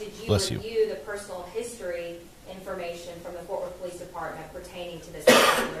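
A sneeze bursts out near the end of a sentencing hearing for a former police officer in a courtroom, a sharp loud broadband hit right after steady questioning speech, with a brief cough-like burst earlier under the talking.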